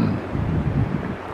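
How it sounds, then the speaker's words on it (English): Strong wind buffets the microphone in low, rumbling gusts, with a faint voice underneath. "It's super windy,"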